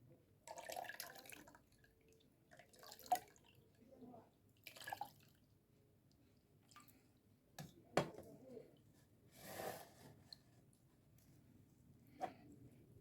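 While licorice drink is strained by hand, water drips and splashes in scattered short bursts, with quiet pauses between them, close and fairly faint.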